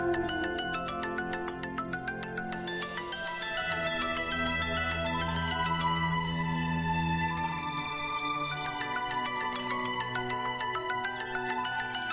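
A melodic phone ringtone plays continuously, a looping electronic tune with clear repeating notes at moderate volume.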